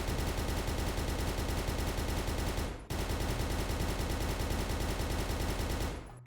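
Automatic gunfire from a weapon being test-fired in the video game One Armed Robber: a dense, rapid stream of shots cuts off briefly, then resumes in a second long, loud, steady burst.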